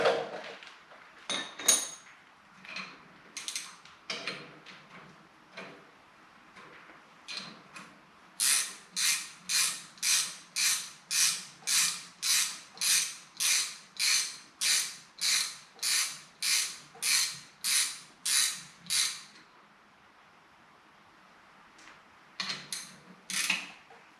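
A ratcheting wrench works on a Harley WL Springer fork, first with scattered clicks, then a long run of about eighteen evenly spaced, loud rasping ratchet strokes, then a few final clicks after a pause.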